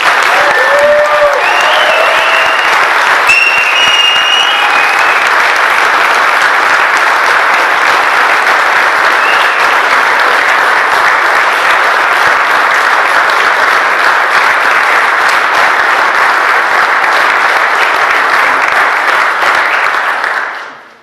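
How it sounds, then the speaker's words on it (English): A seated audience applauds steadily and loudly for newly inducted chiefs at a 2017 chiefs induction ceremony, a dense unbroken clatter of clapping lasting about twenty seconds before fading out at the end. "Ladies and gentlemen, a round of applause for our newest chiefs."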